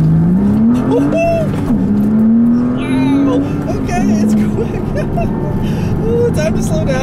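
A 2006 Porsche Cayman S with a manual gearbox accelerates hard along a back road, its engine note climbing and dipping through the revs up close while a voice comes in briefly over it.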